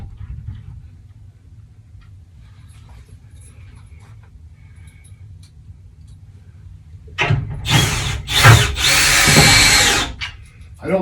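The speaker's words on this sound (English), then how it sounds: "I don't tighten all my screws down all the way with the drill bit." A power drill runs in several short bursts, driving screws into the hinge holes of a frameless door, loud and close after a long quiet stretch with low background hum.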